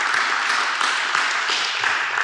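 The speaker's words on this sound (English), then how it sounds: "You have to clap for the organizer again for making me explain that." An audience breaks into steady applause for the event organizer at a business talk, a dense, even wash of many hands clapping throughout with no speech.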